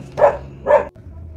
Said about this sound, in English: I apologize about this noise that you hear in the background, the noisy dogs, the busy street